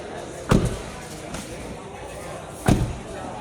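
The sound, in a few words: Toyota Sienta car door being shut while checking door switch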